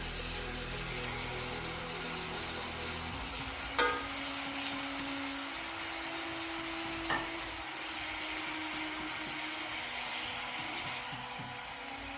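Mutton frying with fenugreek leaves in a pan, a steady close sizzle with a spatula clack partway through and occasional scraping as the mix is stirred.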